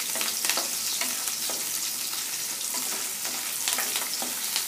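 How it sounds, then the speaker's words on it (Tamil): Cut capsicum sautéing in hot refined oil in a kadai for paneer, a steady close crackling sizzle with occasional scrapes of stirring throughout, no voices. "இந்த குடமிளகா கட் பண்ணியிருக்கிறத போட்டுட்டு அதை வதக்கிக்கணும்"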